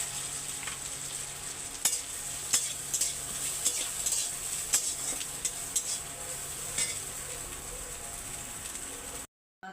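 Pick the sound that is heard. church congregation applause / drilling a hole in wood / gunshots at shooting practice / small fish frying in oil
small fish frying in oil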